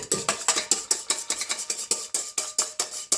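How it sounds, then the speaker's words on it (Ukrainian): Egg whites whisked by hand with a wire whisk in a bowl, a rapid regular run of metallic taps and swishes, close and steady, about four strokes per second. "я допомагаю, ще так вінчиком збивати"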